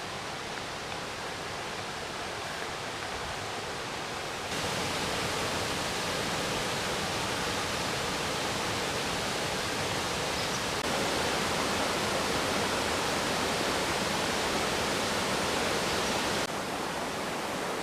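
Indian Branch Falls on Deep Creek in the Smoky Mountains gives a steady, broad rushing roar of falling water that holds at an even loudness throughout, with no voices.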